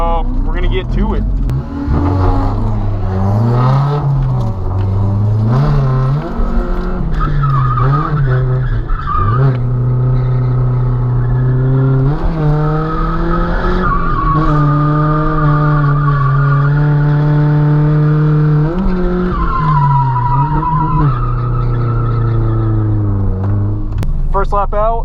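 A Nissan S13 drifting on a small track, tires squealing in long wavering howls over a revving engine that rises and falls between slides, loud and close for the whole stretch.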